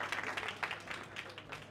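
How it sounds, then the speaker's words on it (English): Faint, scattered audience applause at a poker tournament table broadcast, quick patchy claps over a low hum. "Big applause."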